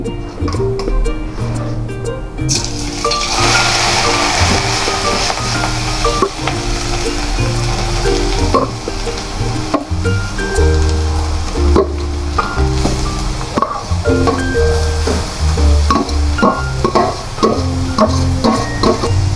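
Half a kilo of grated carrots sizzle and fry in hot cow ghee in a kadhai, a loud steady crackle with scraping stirs throughout, no voices.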